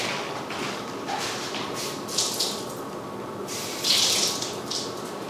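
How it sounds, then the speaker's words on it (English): Tap water runs steadily over hands at a sink while someone rinses sticky taxidermy epoxy off their fingers; a continuous close hiss and splash with brief louder surges as the hands move under the stream, no talking. "I'm going to walk over to the sink and run it under water so it doesn't stick to my fingers."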